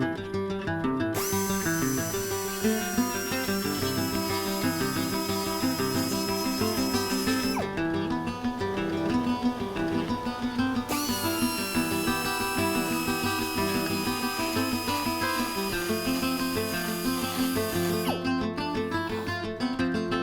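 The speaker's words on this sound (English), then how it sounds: "once this air compressor runs, you're not going to be able to hear anything" A 24-to-25-year-old air compressor running loudly right beside the listener in a garage, a continuous droning motor whine with high-pitched tones that cut in and out, steady throughout with no talking.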